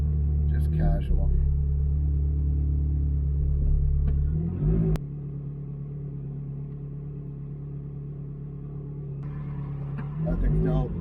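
A new Ford GT sports car idles and revs with a deep, steady low rumble, near and loud, dropping after a sharp transient midway and swelling again near the end, with people talking over it.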